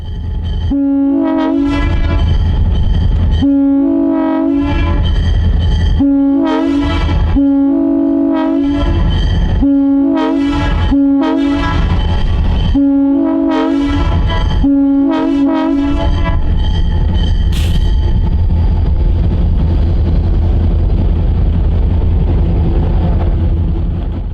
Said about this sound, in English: Orlando and Northwestern's very own GP7 led the train south